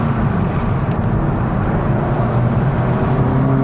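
Honda Civic Type R FL5 with an HKS air filter driving on a track, a steady loud engine drone with low rumble held throughout, no talk.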